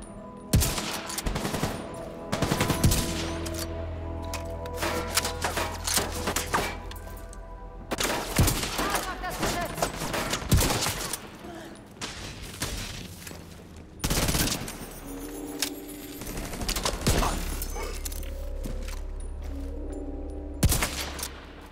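Sustained video game gunfire in The Division 2: rapid automatic bursts and heavy single shots hammer on loudly across the whole stretch, with brief gaps between volleys and thumping impacts, no voices.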